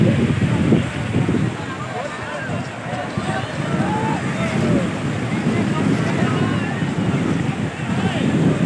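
Sea waves wash onto Clifton Sea View beach in Karachi with a continuous surf rumble, mixed with wind buffeting the microphone and a busy crowd of beachgoers in the background.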